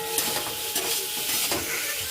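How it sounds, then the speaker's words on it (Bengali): Cut potatoes frying in mustard oil in a wok, giving off a steady, close sizzle with a few sharper spatters and stirring scrapes scattered through. "আলুগুলো লাল লাল করে ভেজে নেব"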